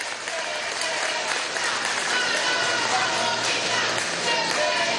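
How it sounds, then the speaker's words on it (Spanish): A large crowd applauds steadily and loudly at a Venezuelan political rally in Aragua honoring the governor and mayors, the dense clapping filling the whole stretch without letup. "Un aplauso al gobernador, a los alcaldes, alcaldesas"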